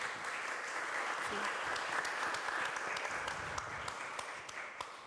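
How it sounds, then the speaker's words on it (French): Steady applause from a crowd at a round-table discussion on biodiversity preservation, even and sustained throughout, heard at a moderate distance with a few sharper claps standing out. "Je pense qu'on peut à nouveau applaudir"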